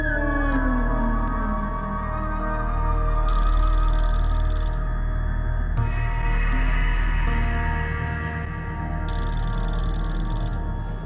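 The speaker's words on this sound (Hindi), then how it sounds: "रिदा का फोन आ रहा है, आप उठा नहीं रहे।" A phone rings with a repeating melodic electronic tone that pulses in cycles over about eleven seconds, steady and fairly close, with soft background music underneath.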